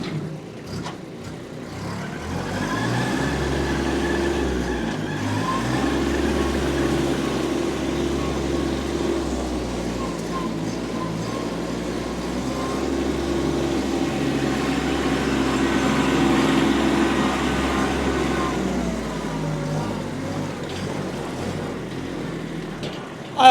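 A Kubota B2401 compact diesel tractor with loader and backhoe idles and runs steadily nearby, a low continuous engine rumble that rises slightly partway through before settling.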